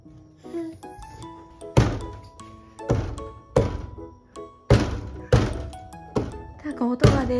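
An eight-month-old baby bangs on a door in a series of sharp, hollow thunks with rattling jingles, about a dozen hits at an irregular rhythm, up close.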